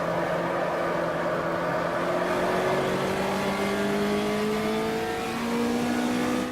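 A fiberglass-bodied Puma GTE in the racing game Automobilista at the Velo Cittá circuit, its engine revving steadily upward through the gears, a loud continuous in-car drone with rising tones and no talk.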